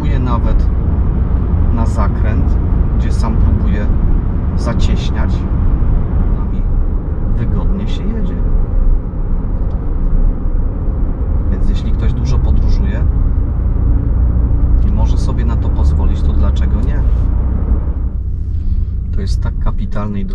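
A 2021 Lexus RX450h hybrid SUV drives along a road, giving a steady low interior rumble of engine and tyres throughout, with someone talking over it and brief higher clicks and swishes from the cabin.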